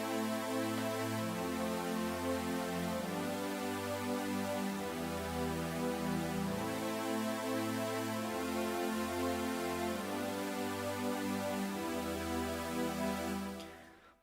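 Synth pad chords in inverted voicings in FL Studio for an NRG/bounce track, steady sustained chords changing in a regular rhythm at moderate level, alone until a quick fade at the end.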